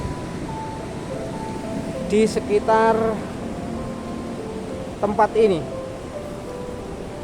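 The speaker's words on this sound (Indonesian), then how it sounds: "Angin berhembus sepoi-poi dan ombak terdengar begitu keras." Sea waves and wind at Watu Karung beach in Pacitan make a constant broadband wash beneath someone speaking, with the surf steady and fairly loud behind the talk.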